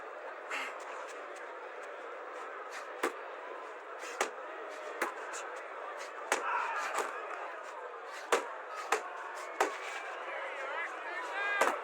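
Body shots land in a simulated boxing video game fight, Alex Pereira against Yuri Boyka. Sharp thuds and smacks hit at irregular intervals under steady commentary and a crowd roar.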